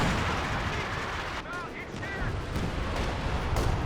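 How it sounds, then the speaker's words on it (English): A Katyusha rocket artillery barrage in a World War II strategy game: dense, rapid detonations and gunfire rattle continuously, broken briefly by whistling rockets in flight amid the ongoing battle noise. "Katyusha long range barrage, try and target these team weapons"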